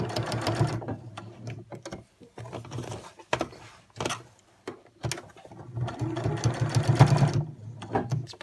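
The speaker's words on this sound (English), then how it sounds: "I'm going to sew this bit of bias binding onto the edge here." Sewing machine stitching bias binding onto the edge of a scrubs gown, running in short stop-start bursts with a longer run near the end; close mechanical whirring with intermittent clunks and pauses.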